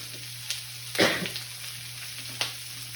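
Eggplant and broccoli stir-frying in a hot pan give a steady close sizzle, with a few sharper spatters and one louder burst of hissing over a low constant hum.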